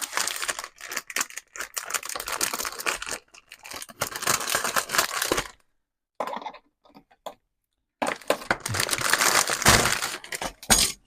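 Plastic packaging bags from a Millennium Falcon model kit are torn open and handled, giving loud, close crinkling and crackling in long stretches, broken by a couple of near-silent pauses.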